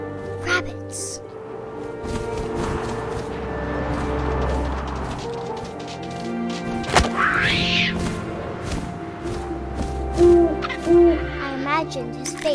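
In the game What Remains of Edith Finch, an owl hoots a few times amid a low wind-like ambience, and a voice narrates throughout.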